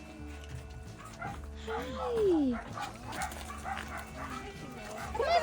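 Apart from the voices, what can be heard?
dogs barking and yipping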